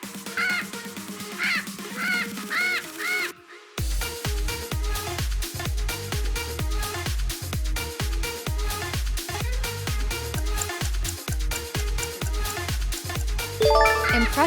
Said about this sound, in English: it's a parrot.